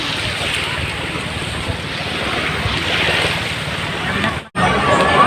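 Steady broadband wash of sea surf at Panglao Beach, continuous and fairly close, with wind buffeting the microphone and a brief dropout near the end; voices faintly mixed underneath.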